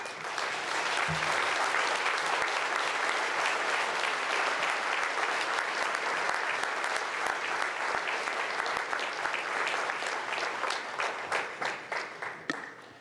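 Sustained audience applause at an inventors hall of fame induction ceremony, a loud, dense roar of many hands clapping for over ten seconds before thinning into fewer, separate claps as it dies away.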